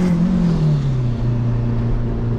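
A triple-turbo Honda Civic engine runs loud and close, its tone sliding down slightly as the revs settle into a steady, heavy drone without any talk.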